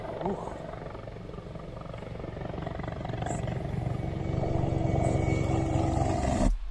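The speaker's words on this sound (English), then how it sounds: "It means that this helicopter is Ukrainian." Ukrainian military helicopter flying past, a steady rotor and engine roar that builds gradually in loudness before cutting off abruptly, continuous throughout.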